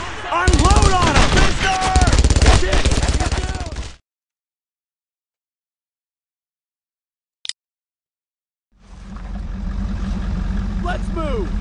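Dense battlefield gunfire in the World War II shooter game Brothers in Arms: Road to Hill 30, with shouted voices over rapid shots, then a sudden silence broken by one brief sharp burst before loud firing noise returns.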